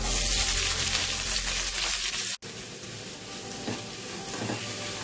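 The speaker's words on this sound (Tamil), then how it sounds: "வெங்காயத்தை நல்லா வதக்கிக்கலாங்க" Onions sauté with cinnamon, clove and cardamom masala in a pan, giving a steady loud sizzle that cuts out sharply for an instant midway and then resumes with a few soft stir scrapes, with no talking.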